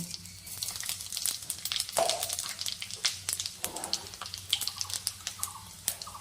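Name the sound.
five-spice tempering sizzling in hot mustard oil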